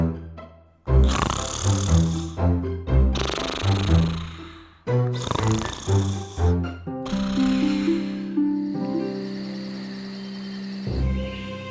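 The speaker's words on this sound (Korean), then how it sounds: "그는 공주들이 준비한 방에서 밤새도록 코를 골며 잠을 잤답니다." A cartoon man snores through the night in a fairy-tale bedroom, with loud, deep, rhythmic snores repeating several times before a chime-like musical cue and one final snore.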